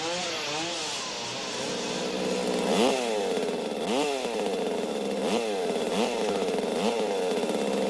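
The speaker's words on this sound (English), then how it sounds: "There's a chainsaw involved." A chainsaw revs loudly and repeatedly during the final battle of a horror film, its engine pitch rising and falling in rhythmic surges over a steady mechanical drone, with no talk.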